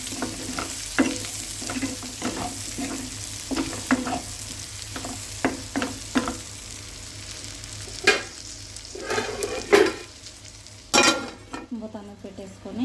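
Prawns frying in a pan for a prawn fry, with a steady sizzle and repeated stirring scrapes and clinks of the utensil against the pan, close and fairly loud throughout.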